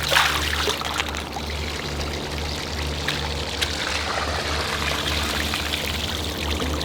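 Water surging and pouring through a small watershed model, a continuous rushing, trickling stream heard close and steady with no talk.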